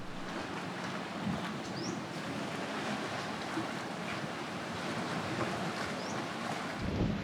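Steady wind gusting across a rocky coastal cliff by the sea, a constant broad rushing roar with microphone buffeting and distant surf beneath, no voices.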